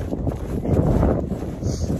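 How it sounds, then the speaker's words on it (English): Steady wind on a farm buffets the microphone with a low, rumbling roar that rises and falls slightly throughout, with no talking. "now it's windy today."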